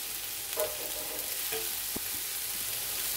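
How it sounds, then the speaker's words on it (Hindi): Samosa vegetable filling with salt is fried lightly in a pan, giving a steady soft sizzle with a few spoon scrapes and stirring clicks, close and without talk. "बिल्कुल हल्का सा भूनना है"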